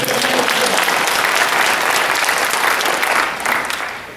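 A church congregation claps loudly together during a Korean sermon, a thick sustained roar of applause that holds for several seconds before thinning out near the end.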